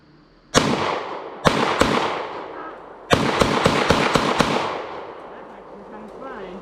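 A partial magazine fired from a firearm at an outdoor range: one shot, a second shot, then a quick string of about six sharp reports, each with a rolling echo.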